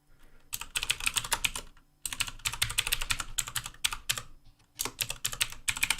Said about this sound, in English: I'm actually typing this manually,